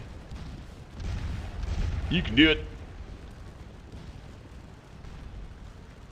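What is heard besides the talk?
cannon shots in the video game Scourge of War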